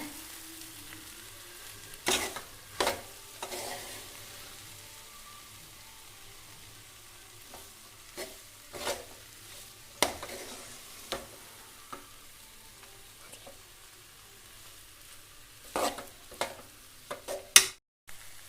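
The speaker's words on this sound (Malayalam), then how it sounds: "നമ്മൾ പയറെല്ലാം നല്ലതുപോലെ ഇളക്കി യോജിപ്പിച്ചുകൊണ്ടിരിക്കുകയാണേ" Green gram stir-fry (cherupayar thoran) stirred in a pan, quiet scraping strokes of a spoon arriving in irregular bursts over a soft, faint background with no talking.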